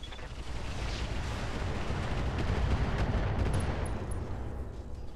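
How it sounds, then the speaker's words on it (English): A handheld MRM weapon fires in the Roguetech mech game, a dense, continuous rumble of rocket blasts and low booms that holds steady and loud for about five seconds, with no voices over it. "Let's get the handheld MRM on too. We're going to fire at this guy."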